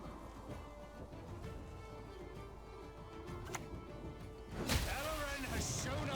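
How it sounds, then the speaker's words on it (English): Rain weather effect in the card game Gwent, a steady hiss of rainfall with a rumbling crash and swelling burst near the end, mixed with game sounds and a voice talking over it. "Hopefully the rain kills the Yavin."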